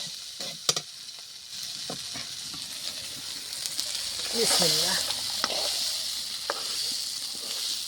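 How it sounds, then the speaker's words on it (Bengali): Bora fritters sizzling in hot oil with a steady frying hiss, punctuated by scraping stir clicks and a brief louder swirl midway; a voice speaks briefly. "এই যে বড়াটা সুন্দরভাবে ভাজা হয়ে গেছে"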